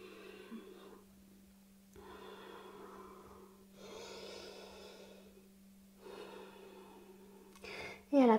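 Deep, slow breathing during a standing yoga pose with one knee bent and hands resting on the shin, in a wall-supported flow toward a side split. Long, soft inhales and exhales come in steady waves, close and fairly quiet, with no talk.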